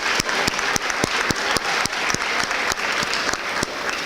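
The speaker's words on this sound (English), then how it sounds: "Big round of applause for them." An audience at a school awards ceremony applauds children with perfect attendance, steady clapping from a room full of people, fairly close with individual sharp claps standing out throughout.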